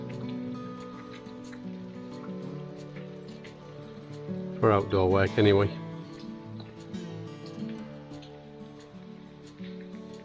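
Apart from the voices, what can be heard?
rain falling outdoors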